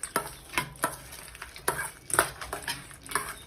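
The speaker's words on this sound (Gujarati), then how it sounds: "થોડું દહીં એડ કરી દઈશું અને સરસ આપણે મિક્સ કરી દઈશું।" A spoon stirs curd through a leftover roti snack with tamarind chutney, giving a steady run of close, wet scraping strokes and clinks against the bowl in a quick, uneven rhythm.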